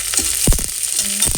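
Onions drop into hot oil with cloves and cardamom and bay leaf for a vegetable broccoli pulao, giving a close hiss with a few sharp clanks of a spoon against the pan.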